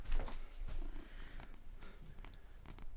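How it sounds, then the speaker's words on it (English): A house cat purrs right against a podcast microphone, a steady low rumbling texture lasting throughout, close and fairly quiet, with faint scattered clicks and no talking. "Can you get my cat away from the microphone?"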